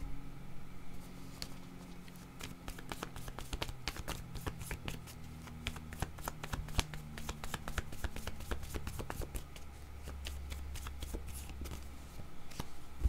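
Cards being shuffled for a card reading: a dense run of crisp riffling snaps and flicks that keeps going for the whole stretch, close up over a low steady hum, with no talking.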